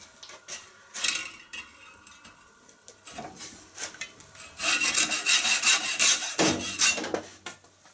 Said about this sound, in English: Trusty hacksaw.